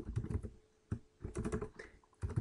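Rapid clusters of keystrokes on a computer keyboard while coding a game in GameMaker Studio, close and crisp, arriving in short bursts separated by brief pauses, with no speech.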